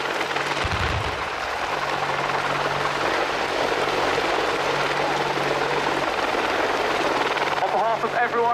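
An Army Apache helicopter hovers nearby at an air display at RAF Cosford, with a constant loud whirring rotor drone and engine whine, steady throughout.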